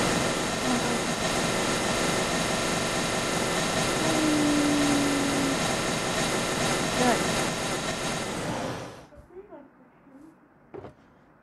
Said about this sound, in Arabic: يلا نبدأ بس نطير الطيارة شوي.